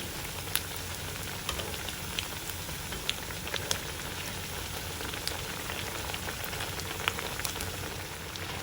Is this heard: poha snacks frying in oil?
yes